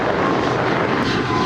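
A loud, broadband roar of a jet airplane taking off from a runway at LAX fills the brief moment without pause.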